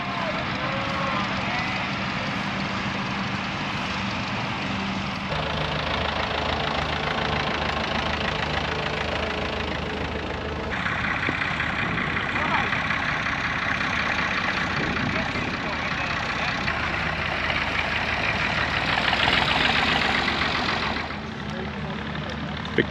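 Many tractor engines idle together at the Great Yorkshire Traction Engine Club Rally in a field at Helmsley, a steady mid-pitched rumble running throughout with crowd talk and background bustle mixed in.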